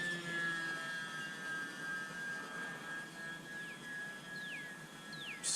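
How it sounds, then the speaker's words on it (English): A small UMX Pitts S electric RC plane's motor runs steadily, a thin whine with faint rising and falling tones as it passes, fairly quiet and at a distance. "Sounds like the motor's working about the same RPM."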